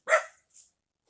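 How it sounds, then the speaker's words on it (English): A single sharp dog bark, followed by a fainter short yip, both coming from some distance away in the mountains. "there you hear the dog in the background barking"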